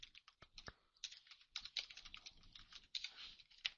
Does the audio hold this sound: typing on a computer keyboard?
yes